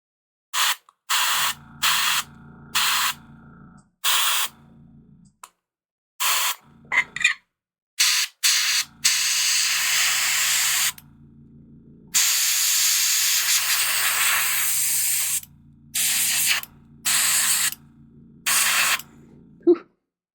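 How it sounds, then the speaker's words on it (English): An airbrush sprays primer through its nozzle in a string of short hissing bursts, with two longer sustained sprays in the middle, each separated by quiet pauses, close by. "this time we're going to spray this through the nozzle"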